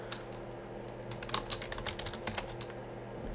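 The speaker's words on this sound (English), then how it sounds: "I started typing on Skype" Rapid, irregular typing on a computer keyboard, sharp clicking keystrokes in uneven bursts, close and fairly quiet over a steady low hum, with no voices.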